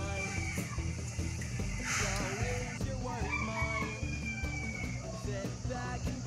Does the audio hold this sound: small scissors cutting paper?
no